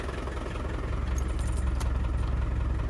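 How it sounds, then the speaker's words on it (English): A 1998 Land Rover Defender 110 with a 300TDI turbo diesel idles indoors, giving a steady, close, rumbling clatter that holds even throughout with no talk. "But idles well, runs well."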